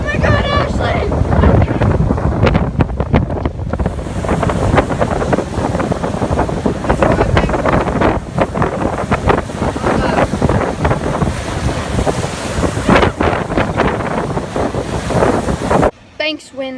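Strong wind buffets the microphone on the Lake Superior shore as large waves crash and wash in, a loud, continuous roar with surging peaks, and voices come through faintly under it.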